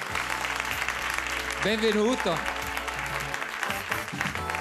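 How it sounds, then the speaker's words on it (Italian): Studio audience applause on an Italian TV music show, a steady wash of clapping running throughout under a host's spoken introduction and background music. "un applauso per lui"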